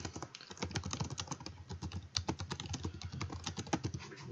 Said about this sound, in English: You can quickly type in what you want to say here in English.